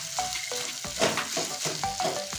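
Taro leaves fry with a fish head, giving a close, steady sizzle. Repeated soft scrapes of a stirring spoon break through it every half second or so.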